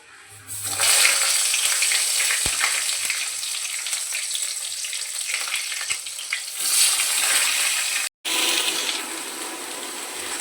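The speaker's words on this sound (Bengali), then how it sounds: "এরপর এর মধ্যে এক এক করে পটলগুলো দিয়ে ভালো করে ভেজে নেব।" Pointed gourds drop into hot mustard oil in a wok, setting off a sudden loud sizzle that stays strong and steady, with a brief break near the end.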